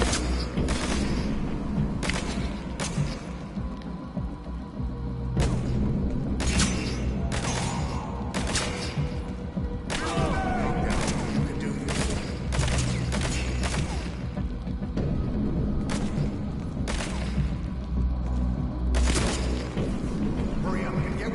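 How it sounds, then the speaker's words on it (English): Gunfire from the video game Metal Gear Solid V comes in frequent bursts of sharp cracks and volleys over a steady roar of combat noise, with louder clusters of shots scattered across the span. "Notice how they're only shooting at me."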